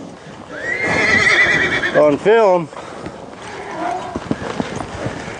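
A horse gives a loud, close whinny, followed by hooves clip-clopping on hard ground, with someone talking over the sounds.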